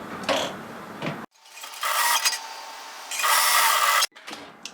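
A sewing machine stitches a hoodie seam in two quick bursts of rapid mechanical whirring, separated by short pauses.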